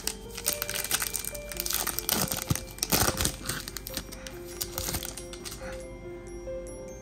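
Foil wrapping on a 2024 WWE Prizm trading card pack crinkles and tears loudly up close, a dense run of rustling and crackling that eases into quieter handling near the end, without speech.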